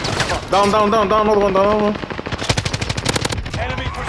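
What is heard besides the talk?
gunfire in a video game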